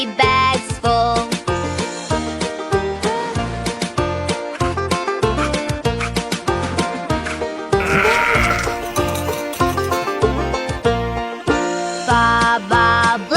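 A cartoon sheep bleats within a cheerful nursery-rhyme song, its voice mixed into steady, bouncy music with a light jingling accompaniment throughout.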